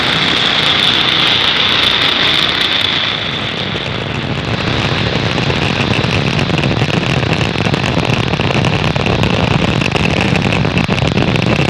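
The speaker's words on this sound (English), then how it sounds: "ignition, engines full power, and liftoff of Starlink 6-10. Go Starlink, go Falcon." A SpaceX Falcon 9 rocket's engines roar at liftoff on a Starlink mission from Cape Canaveral, Florida: a continuous, dense, loud broadband rumble that never lets up, with no voices.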